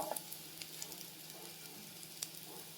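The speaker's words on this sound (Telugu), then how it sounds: "ఈ కలర్ వచ్చేంత వరకు నిదానంగా బాగా ఫ్రై చేసుకోవాలి" Vegetable kebabs fry slowly in a pan, making a soft, steady sizzle with occasional small pops and crackles and no talking.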